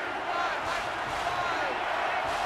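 A stadium crowd in the NCAA 25 football game roars steadily in the background, a broad sustained din under a commentator's voice.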